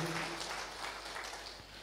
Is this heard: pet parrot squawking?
no